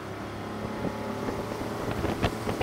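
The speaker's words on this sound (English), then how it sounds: "So with this motor all the way trimmed down, let's see the whole shot on this boat, especially with that hydrofoil added." A small aluminum boat with a 40hp Tohatsu outboard, trimmed fully down and fitted with a hydrofoil, accelerating hard; the engine drones steadily with rising intensity amid wind buffeting the microphone, no talking.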